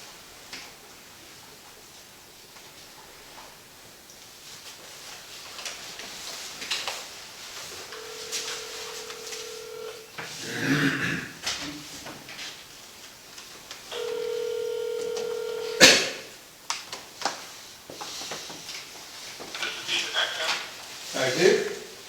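Telephone keypad tones and a dial tone sound during a board of trustees meeting, a couple of steady beeps standing out, with people talking and small room noises around them.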